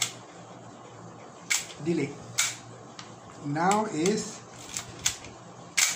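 A camera shutter fires repeatedly at different shutter speeds, giving sharp mechanical clicks spaced through the clip, with someone talking between them.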